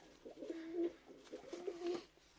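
Soft, low cooing from a pigeon, two drawn-out coos about a second apart, close by with faint background noise.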